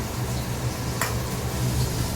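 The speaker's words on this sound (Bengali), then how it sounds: "আর এখানে মাছ ভাজা হচ্ছে" Pabda fish fry in a pan with a steady, dense, close sizzle that stays constant throughout, with one brief scrape partway through.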